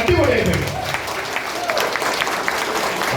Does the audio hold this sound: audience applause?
yes